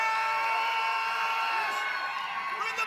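A live crowd at a window tint world championship finals roars and whoops in a sustained burst of cheering, loud and continuous with scattered high yells.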